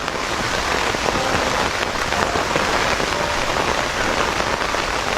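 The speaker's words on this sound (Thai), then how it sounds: "ฝนก็ตกนะ" Heavy rain pours down in a steady, loud, dense hiss with no pauses, close by and unbroken throughout.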